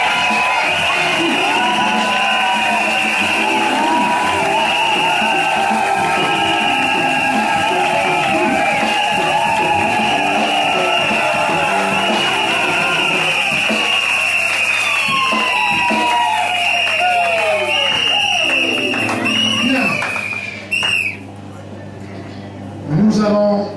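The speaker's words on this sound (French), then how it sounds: "Applaudissons frère." A church congregation at a New Year's Eve thanksgiving service cheering and applauding, a loud sustained crowd roar with whoops and shouts that fades toward the end.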